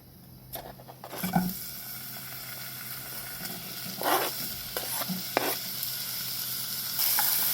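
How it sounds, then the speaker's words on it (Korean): Onions fry in hot cooking oil in a pan, with a steady close sizzle and intermittent stirring scrapes, including a few louder clatters, with no speech. "잠시 달구어준 팬에 식용유를 둘러주고 손질해 두었던 양파를 볶아주도록 하겠습니다."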